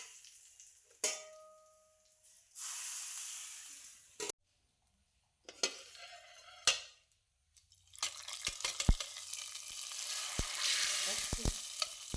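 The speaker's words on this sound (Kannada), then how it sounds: "ಕೊನೆಯಲ್ಲಿ ಒಂದು ಒಗ್ಗರಣೆ ಹಾಕೋದು" Tempering spices for a mung bean dish sizzle and spit in hot oil in several loud bursts with short pauses, then a dense crackling sizzle with sharp pops. No one speaks.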